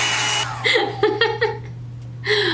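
A 4-in-1 blowout hair brush blows air in a whooshing rush at the start and again at the end, with brief giggling and vocal sounds in the quieter gap between.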